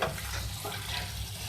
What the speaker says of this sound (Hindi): इसको मिक्स कर लें